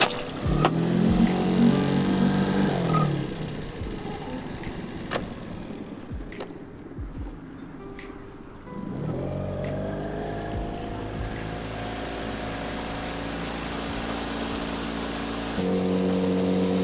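A fishing boat's outboard motor runs steadily on a mangrove-lined inshore bay, its droning engine tone shifting pitch as the throttle changes, with occasional knocks and splashes and no talk.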